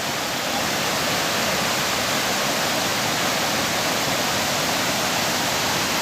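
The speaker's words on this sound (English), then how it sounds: "Horseshoe Lake waterfall." The Horseshoe Lake waterfall rushes with a loud, steady, dense roar that stays unbroken throughout, heard close by and alone without talk or other sounds.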